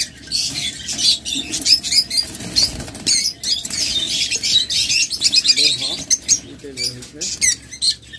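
Pairs of caged birds for sale, wings flapping and fluttering almost continuously against a dense bed of bright chirps and tweets, close and fairly loud.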